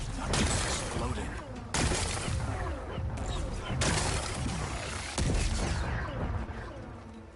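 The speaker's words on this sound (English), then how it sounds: "Gotta blast away some rocks." Rocks blasted apart in Horizon Forbidden West: three or four loud, broad explosive bursts spaced a couple of seconds apart, each decaying into crumbling debris rumble.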